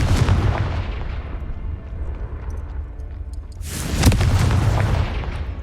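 A Confringo fire-blast spell explodes in a video game, with one booming blast at the start that decays into rumble, then a second loud, sharp explosion a few seconds later.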